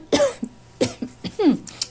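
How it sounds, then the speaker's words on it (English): A few small, close coughs in quick succession, short and throaty, with brief pauses between them. "And a small cough."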